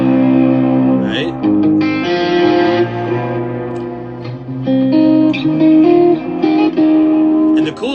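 An electric guitar through a Hologram Microcosm effects pedal gives a hands-free, EBow-like swelling sustain, with long held tones layering and ringing out loud and close, plus a few brief picked accents.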